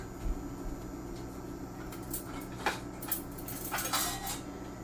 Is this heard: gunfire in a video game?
no